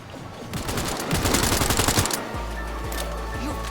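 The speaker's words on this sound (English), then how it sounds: "Shooting like it's the other gun." Rapid automatic gunfire from the video game Cyberpunk 2077 bursts loud and continuous for about two seconds, then gives way to a steady low hum with faint repeated thuds.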